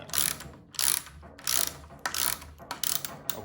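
A Milwaukee 4-in-1 lineman's insulated ratcheting box wrench clicks through several quick bursts of ratcheting, six short sets of dense, close, crisp clicks separated by brief pauses, with no voices.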